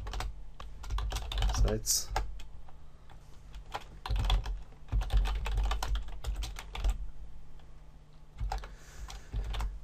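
Fingers tap quickly on a computer keyboard while a username is entered, giving bursts of crisp clicks with short pauses over a low background hum, and a voice speaks briefly.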